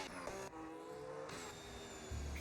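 Ferrari F1 car in a Monaco race game, engine whining steadily at high revs with a tonal drone and brief dips as it passes, ending in a low rumble, fairly faint.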